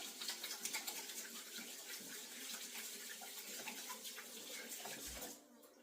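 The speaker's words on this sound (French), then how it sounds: "Laissez-moi me laver les mains." Hands are washed under a running kitchen tap, the water splashing and hissing steadily at close range before shutting off abruptly near the end.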